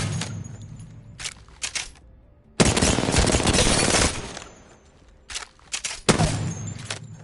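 Automatic weapon fire at distant targets in Apex Legends, short bursts then a long sustained stream of rapid shots, loud and close, alone without voices.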